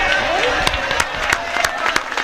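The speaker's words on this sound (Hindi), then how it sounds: "आप सब की तरफ से तालियां होनी चाहिए भाई" Applause from the audience at a mushaira poetry gathering rolls in as a dense, steady patter of many hands, with several sharper claps standing out, loud and close throughout.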